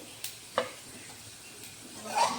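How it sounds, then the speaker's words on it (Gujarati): Okra fries in oil over a high flame with a quiet, steady sizzle, punctuated by a few sharp stirring clinks and a swelling burst of crackle toward the end. "ભીંડા પણ સરસ શેકાઈ ગયા છે, તેલમાં તળાઈ ગયા છે"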